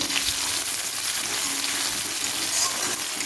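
A steady, close sizzle of onions frying in hot oil, a dense crackling hiss that continues evenly without pause.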